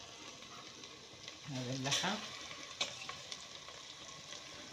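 Meat is added to a pot of spinach and tomato paste stew, bringing a soft sizzle and a stirring scrape, fairly quiet and close, with a short spoken word over it.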